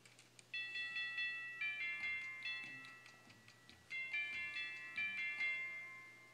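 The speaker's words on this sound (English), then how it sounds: "Who rings the doorbell at 3 in the morning?" A chiming doorbell rings out in a repeated melodic sequence of bright tones, two bursts separated by a brief pause, over a low steady hum.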